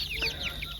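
Chickens cluck softly inside a chicken coop on a small Australian farm, a few short close calls over a low background rumble.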